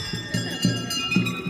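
Many temple bells chime steadily in the background, their bright tones lingering over a murmuring crowd and nearby voices.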